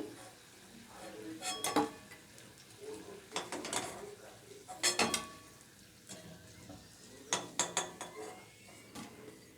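Fried snacks being lifted out of a pan with a metal utensil, with clusters of clattering scrapes and clinks against the pan separated by quieter pauses, close and fairly soft.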